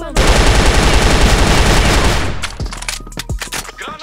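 QBZ assault rifle firing in a ranked shooter match, a dense loud sustained burst of automatic gunfire followed by a few scattered single shots and clicks as it tails off.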